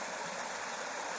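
A burn flowing near Slaley and Healey Mill in late November, a steady hissing wash of running water, continuous and moderately faint, with no voices.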